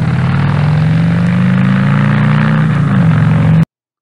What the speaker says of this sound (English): The sound of the motorcycle is loud.